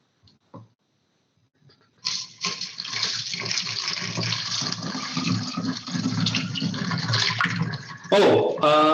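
Water pours steadily from a tap through a funnel into a 16-ounce plastic dye bottle for tie-dye with Procion MX dyes, a close continuous rushing splash lasting several seconds, ending with a brief clatter.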